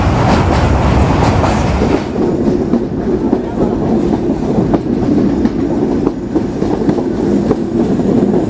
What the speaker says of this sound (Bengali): সামনে একটি ট্রেনের সাথে আমাদের ক্রসিং।